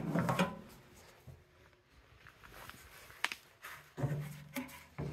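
Cabinet doors on a Grizzly G0513X2 17-inch bandsaw being opened: scattered close clicks, a sharp latch snap and wooden thumps over a few seconds, with rustling in between and no talk.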